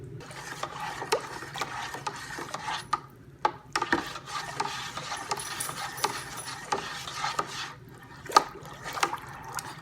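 Measured chemicals being stirred into a cherry melomel fermentation bucket, with a quick run of small clicks, scrapes and knocks from the stirring over a low background, close by.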